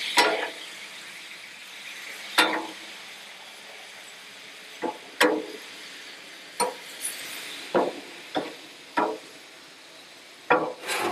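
Ham cubes sizzle with brown sugar on a hot griddle, a steady frying hiss broken by about ten sharp scraping and clinking spatula strokes at irregular intervals, close and fairly loud with no talk.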